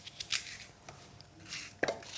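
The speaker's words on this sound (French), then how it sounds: "Je la coupe en petits cubes." A knife chops a green apple into small cubes on a board, giving a series of quiet, crisp, irregular cuts with short gaps between them.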